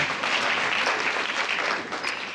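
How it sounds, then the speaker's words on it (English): A church congregation breaks into steady, dense applause during a Sunday service, a close and continuous wash of many hands clapping at once with no pauses. "Let's give the Lord a clap."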